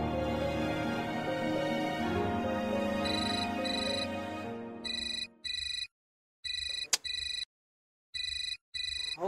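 A telephone ringtone takes over from fading background music, sounding as bright electronic trills in repeated bursts separated by short silences.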